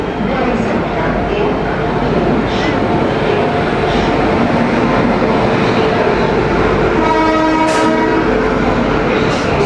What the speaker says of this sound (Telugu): సో ఇదిగోండి మన ట్రైన్ వస్తూ ఉంది